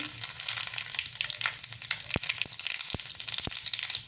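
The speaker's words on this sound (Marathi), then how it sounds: "दोन चमचे तेल गरम केलेलं आहे मी त्याच्यामध्ये टाकणार आहे जिरे मोहरी" Cumin and mustard seeds fry in two spoonfuls of hot oil for a chutney tadka, a continuous crackling sizzle with several sharp pops near the end, close and fairly loud.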